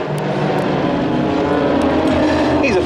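Team Raven aircraft fly a Big Vic formation loop, a loud, continuous engine and propeller roar that holds steady throughout and swells slightly as the planes pass.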